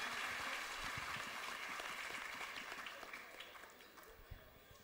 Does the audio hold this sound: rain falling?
no